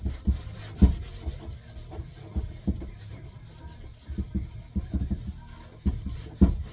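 Sanding a 2006 Dodge Magnum headlight lens by hand produces irregular gritty rubbing strokes, close and moderately loud, with uneven bursts and short pauses between passes.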